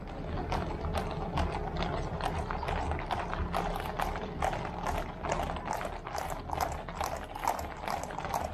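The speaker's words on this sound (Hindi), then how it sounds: "तो भैया सामने से आ रहे हैं घोड़े।" Horses' hooves clip-clop steadily on pavement during a Republic Day parade rehearsal in Delhi, a dense, rhythmic clatter of many animals heard close up over a constant outdoor rumble.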